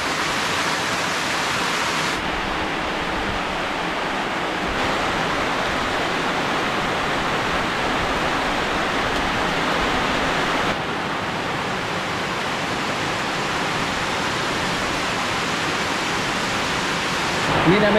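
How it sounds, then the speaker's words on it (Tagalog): Sudden heavy rain pours down in a steady, loud, dense roar that holds evenly from start to finish with no break. "So, biglang bumuhos ang ulan."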